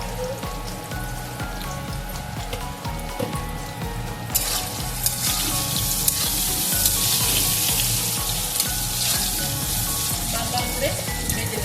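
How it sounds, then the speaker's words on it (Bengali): Potatoes fry in hot oil for an aloo phulkopir dalna, a loud, steady crackling sizzle close by with a rhythmic low knocking of stirring underneath. The sizzle grows brighter and more intense partway through. "লাল লাল করে ভেজে নেব আলুটা"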